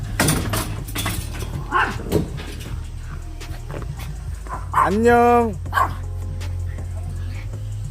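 Puppies in a room give a bark and a rising, whining whimper in the middle, over a steady low hum, with people talking and exclaiming nearby.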